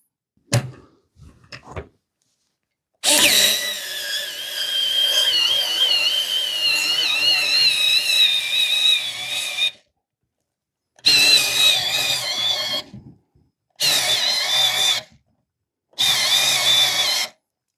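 Parkside Rapidfire 2.2 mini 4V cordless screwdriver driving a screw under heavy load, one long loud whirring run followed by three shorter bursts with silent gaps between them.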